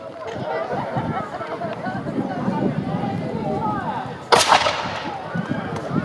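An Elizabethan musket fires once during an outdoor castle pageant at Kenilworth: a single sharp, loud blast with a short noisy tail late in the clip, preceded by a murmuring crowd and people talking.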